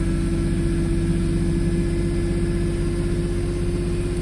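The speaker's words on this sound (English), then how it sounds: "well there's a Canadian cold start for you" Car engine idling after a cold start at -25 Celsius in Canadian winter, a steady low rumble with a constant droning hum and faint high-pitched whine, unbroken for the full length with no talk.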